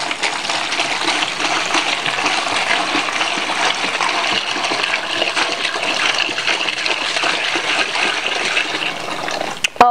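Five liters of methanol poured into a container while making aftershave, a steady continuous gushing, splashing pour that runs close and loud for nearly ten seconds before stopping abruptly.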